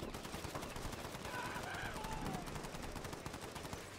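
Rapid, steady assault rifle fire in the game Earthbreakers, a continuous stream of shots under low background game noise and faint talking.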